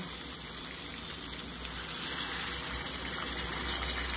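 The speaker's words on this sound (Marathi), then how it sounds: "तर इथे आपण पाणी टाकायचं" Water gushes steadily and loudly into a pot of whole masoor lentils mixed with masala for a dhaba-style curry, a continuous pour with no pauses.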